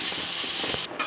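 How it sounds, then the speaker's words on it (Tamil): Onions with a little salt and curry leaves sauté in a hot pan for goat blood poriyal, giving a steady close broadband sizzle and hiss that briefly dips near the end. "இதை லைட்டாக உப்பு போட்டு வெங்காயம் வதக்கிட்டுருக்கோம்."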